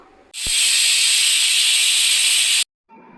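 A pressure cooker whistle, cooking prawn biryani, releases a loud, steady hiss of steam that cuts off abruptly, followed by a brief quiet pause.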